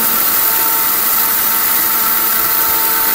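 A Miyako blender grinding lentils, a loud, steady, high-pitched motor whine held without a break, close up, no voices.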